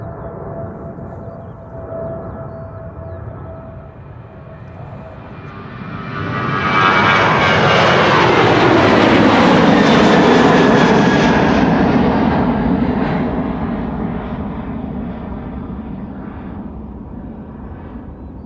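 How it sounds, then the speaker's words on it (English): A Ryanair jet on the Polderbaan runway at Amsterdam Schiphol gives a loud, rising engine roar that peaks midway and slowly fades, preceded by a quieter distant rumble. "Ryanair flight 421 to Dublin, Ireland."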